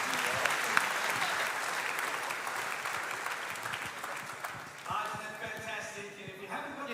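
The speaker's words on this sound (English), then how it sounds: "can we get one more round of applause, ladies and gentlemen?" A large indoor audience at a basketball awards night applauds continuously, a dense steady patter of clapping that fades slightly toward the end as a few voices come through.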